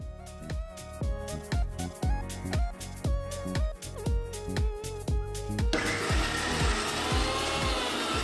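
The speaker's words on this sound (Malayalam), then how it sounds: "മിക്സിയുടെ ജാറിൻ്റെ ബ്ലേഡ് ശരിക്കും ഉള്ളിൽ കിടന്ന് കിറങ്ങുകയാണ്" A mixer grinder jar blade churns thick falafel mixture in loud, regular pulsing bursts, then shifts into a harsher continuous whir near the end.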